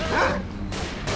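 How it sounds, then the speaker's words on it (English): Dogs bark and yip in the video game S.T.A.L.K.E.R. Call of Pripyat, Misery 2.1 mod, a few close, fairly loud barks in quick succession over a rumbling background. "Lots of dogs."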